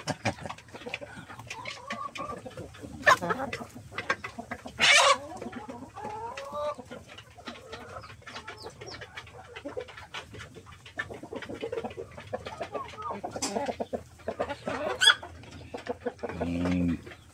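Black Australorp and Rhode Island Red heritage chickens cluck steadily nearby in their pen, with scattered louder squawks and calls breaking through the continuous flock chatter.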